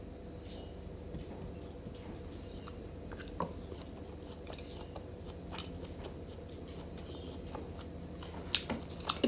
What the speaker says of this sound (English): I will taste the rib eye steak first.